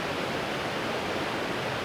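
Steady broadband rush of a waterfall beside a campsite, a constant even hiss of falling water heard alone at moderate level.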